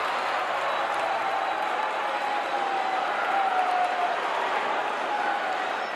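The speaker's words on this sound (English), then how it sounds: "this crowd here is really and truly enjoying a night of action" A wrestling crowd at a Houston event fills the space with a steady, dense roar of cheering and applause, continuous and fairly loud throughout.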